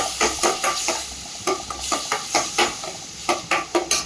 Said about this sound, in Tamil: நல்லா பச்சை வாசனை போகிற வரைக்கும் வதக்கிக்கலாம்